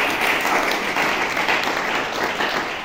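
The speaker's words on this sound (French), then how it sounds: "Est-ce qu'on peut acclamer pour le Seigneur?" A church congregation applauds loudly for the Lord, with dense, sustained clapping from many hands that keeps up evenly throughout.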